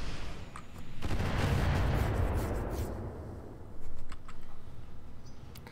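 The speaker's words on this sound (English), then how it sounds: "Firing. Oh, extended long-range missiles." Extended long-range missiles launching in the RogueTech mech game, a long roaring salvo that swells and fades, followed by a second louder burst of launches, with no voices.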